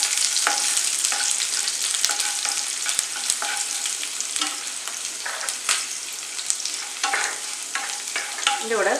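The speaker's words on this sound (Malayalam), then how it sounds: "അതൊന്ന് ഫ്രൈ ചെയ്യാം." Garlic and green chillies frying in a pan for a Kerala matta rice tomato dish, a steady, close, continuous sizzle with occasional stirring scrapes throughout.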